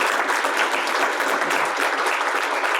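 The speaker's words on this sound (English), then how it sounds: "Let's give them all a round of applause." Steady audience applause at a panel event on affordable housing, dense and even throughout without a break, with no talking over it.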